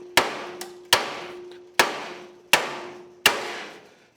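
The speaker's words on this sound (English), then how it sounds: "Then we're gonna take the old hammer here and we're just gonna hit it." A hammer strikes a threaded part five times at a slow, uneven pace, each blow a sharp metallic hit with a ringing tone that decays before the next.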